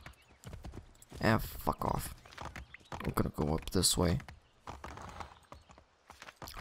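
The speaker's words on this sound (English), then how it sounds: "Come on, horse. You can jump this." Horse hooves clip-clopping with a brief whinny in Assassin's Creed 3, heard under loud, frequent talking from a man throughout.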